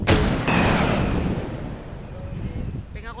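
AWM rifle gunfire in a Minecraft game, a single loud sharp blast at the start followed by a long decaying rumble and echo that fades over a few seconds.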